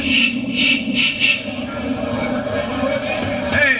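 A train halting on a trestle after the emergency cord is pulled gives off a steady rumbling rail noise with hissing brake-like bursts, close and continuous, while voices are heard beneath.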